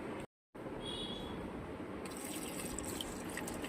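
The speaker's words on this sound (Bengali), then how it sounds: "আজকে আর বেশি জল দেবো না, কিন্তু জল টানছে যেহেতু রোদ পড়ছে না, মনে হচ্ছে একটুখানি দিয়েই দিই" Water poured onto a potted plant gives a steady splashing, trickling flow, close and continuous after a brief cut, with a brighter spattering texture joining partway through.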